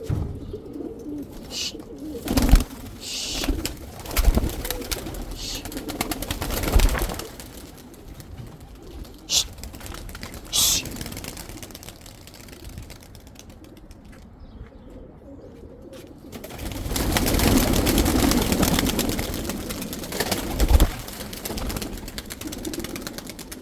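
Rare Sina pigeons cooing close by: repeated low, soft coos at irregular intervals, mixed with occasional knocks and rustles and a stretch of louder broadband handling noise in the middle, with no talking.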